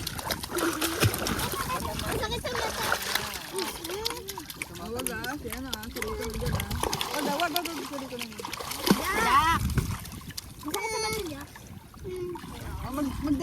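Children playing in water at a beach, with scattered splashes and sloshing under near-constant chatter and shouting from kids and adults, including a sung children's tune.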